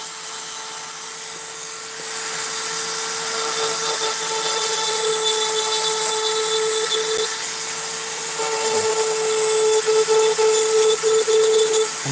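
A rotary tool fitted with a small ball burr grinds and shapes material in a continuous high whine, close and steady, with slight shifts in pitch as it bites in.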